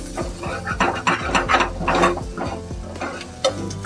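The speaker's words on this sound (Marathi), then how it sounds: "हे ढवळून घेते चांगलं, थोडं भाजायला देऊ" Onion and masala roasting in a pan while being stirred, with rhythmic scraping strokes of a spoon over a soft sizzle, close and fairly loud.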